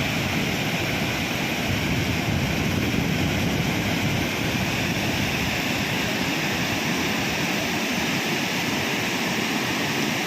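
Loud, constant roar of a flooded, overflowing river rushing past close by in hill country, dense and unbroken.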